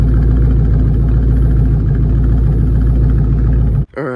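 A Ford Explorer's 5.0 V8 idles loudly up close with a deep, steady rumble and throbbing low pulse, then cuts off abruptly near the end, leaving only a brief muffled shift in sound.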